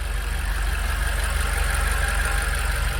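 BMW X6 M Competition with a 4.4-liter twin-turbo V8 idles with the hood open, a steady low rumble with a fast even pulse, close and constant with no talk.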